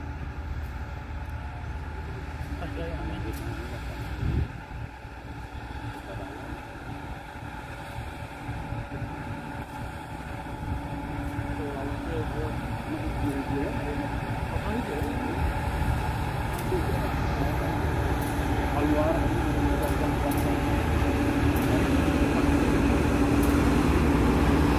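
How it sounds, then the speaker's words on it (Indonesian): A support locomotive creeps slowly up a grade over freshly repaired rails at limited speed, a deep, steady engine rumble and rolling noise that gradually swells louder as it nears, with wind buffeting the microphone. "Kecepatan kereta saat melintas sangat pelan-pelan sekali."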